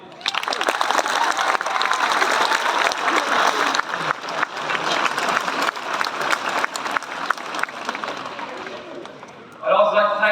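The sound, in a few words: round of applause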